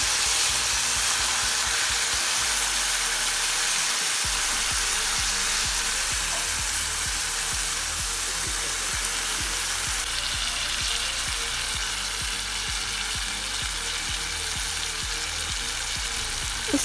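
Chopped tomatoes fry loudly in a pan for a Nepali fish curry gravy, a steady close sizzle and hiss that runs unbroken with faint stirring underneath.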